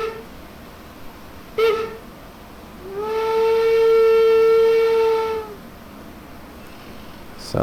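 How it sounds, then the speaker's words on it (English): A BR41 2-8-2 steam locomotive in Train Simulator Classic sounds its preset whistles: two short toots, then one long, loud, steady blast that holds for a few seconds before cutting off. "It'll play some preset whistles."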